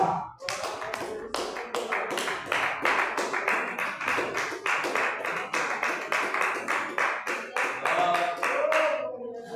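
Church congregation clapping in unison during a worship service, a loud, even rhythmic beat of sharp claps repeating for several seconds with singing or voices underneath, stopping abruptly near the end.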